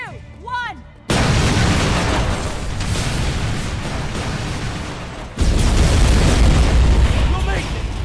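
A large detonation in the shooter game Terminator: Resistance bursts in after a second of quiet, followed by a sustained rumbling roar, then a second heavy blast surges around five seconds in, loud and close.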